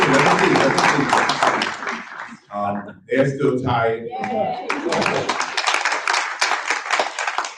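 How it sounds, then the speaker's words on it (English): An audience claps loudly and steadily, someone speaks briefly as it pauses, then the applause surges back. "y'all give them a round of applause there"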